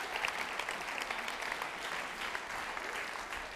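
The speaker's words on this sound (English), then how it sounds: "we just give an extra round of applause" Audience applause at a Science at the Theater lecture at Berkeley Lab: steady, fairly soft clapping from a seated crowd that holds an even level throughout with no voices over it.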